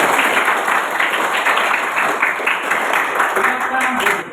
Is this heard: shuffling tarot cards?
no